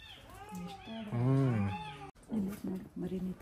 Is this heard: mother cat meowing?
yes